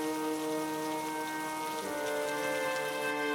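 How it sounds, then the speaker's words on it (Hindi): Heavy rain falls in a steady, dense hiss, with a faint sustained tonal hum beneath it and no voices. "बारिश और तेज बरसने लगती है।"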